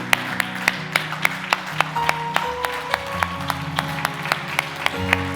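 A church congregation applauds in acclamation of Jesus, with steady rhythmic clapping over sustained music. The claps are evenly paced and fairly loud.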